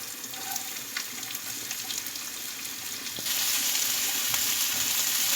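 Onion added to hot oil with cumin, sizzling steadily and then rising to a louder, denser frying hiss partway through, close and continuous with no voices.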